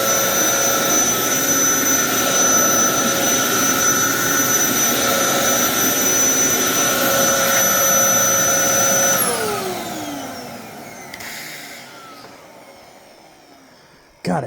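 A Dyson cyclone vacuum cleaner running with a loud steady whine and layered high-pitched whirring tones, then powering down with a falling pitch and fading to quiet before a brief bump at the end.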